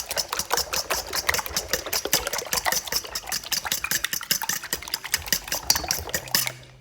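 Eggs are whisked briskly in a bowl for a frittata, a fast, even rhythm of clicking taps from the whisk against the bowl, close and continuous before tapering off.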